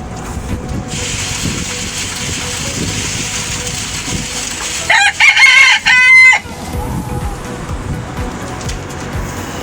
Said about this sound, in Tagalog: Kain natin yung manok natin